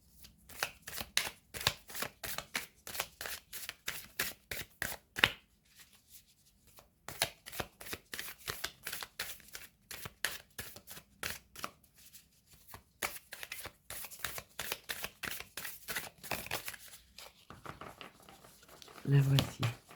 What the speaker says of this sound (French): j'aimerais tirer une carte devant vous pour savoir ce qu'il y a de plus juste pour nous